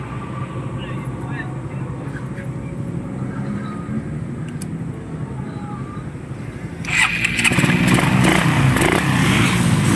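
A 2010 motorcycle with a connecting rod fault runs with a rough, vibrating, noisy engine, a continuous low mechanical drone that grows louder and harsher near the end as the engine is revved.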